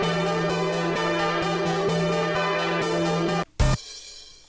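Chorus loop built from a Nexus saw synth plays a dense, buzzy, bright chordal texture with a steady pulsing rhythm and a low sustained bass, cutting briefly before a sharp burst near the end.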